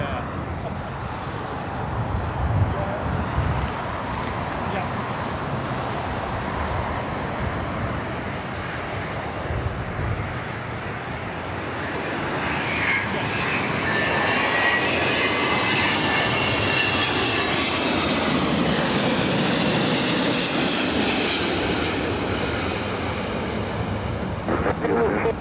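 An arriving airliner at LAX roars steadily throughout, its broad engine noise swelling louder and brighter in the second half as it passes close, with a talking voice faintly present beneath.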